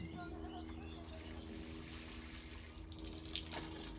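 Water poured onto a young tomato seedling in a greenhouse makes a continuous soft trickle and splash close by, steady throughout with faint background noise.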